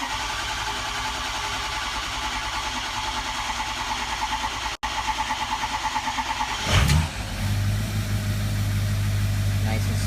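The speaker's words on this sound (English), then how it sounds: "So let's go ahead and crank." A 6.0 Powerstroke diesel engine in a truck, freshly fitted with a new head gasket, cranks steadily for several seconds in a loud rhythmic churn, then catches and settles into a steady close idle.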